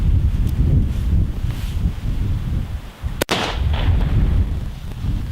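One sharp rifle shot from a gun zeroed at 200 meters, fired at a 10-meter target on an outdoor range. The loud crack comes at about three seconds, with steady wind and rustle around it and no talking.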